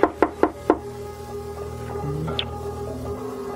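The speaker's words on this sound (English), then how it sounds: "I'll knock." Four sharp knocks on a door in a Halloween radio drama come in quick, evenly spaced succession at the start, then give way to low ambient tones and faint scattered sounds.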